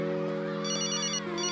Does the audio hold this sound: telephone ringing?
yes